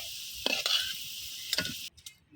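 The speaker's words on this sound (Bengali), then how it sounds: "আমার গাজর আর আলুটা হলো গিয়ে সুন্দর করে ভাজা নিচ্ছি" Carrots and potatoes fry in oil with a steady near sizzle, broken by two brief stirring scrapes, before the hiss drops away at the end.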